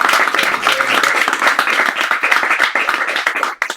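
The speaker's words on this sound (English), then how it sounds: "Let's give them another round of applause." An audience claps after an evening poetry reading, with loud, close, brisk applause of many hands that stays dense for several seconds before thinning out and stopping.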